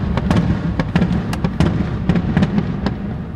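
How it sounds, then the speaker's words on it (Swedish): Fireworks bang over a Copenhagen street on a Saturday night, a steady run of sharp cracks and pops over a dense crowd rumble, loud and fairly close. "De smäller raketer mitt i Copenhagen här."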